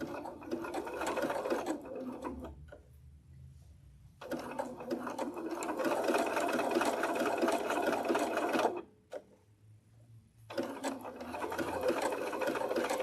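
A home sewing machine runs a blanket stitch in long bursts with a short pause and a longer pause between runs, a rapid steady chatter with a faint low hum during the pauses.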